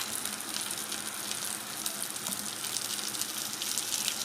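Urad dal, chana dal, green chillies and tamarind fry in a pan with a steady, close sizzle that crackles softly and continuously, with no talking.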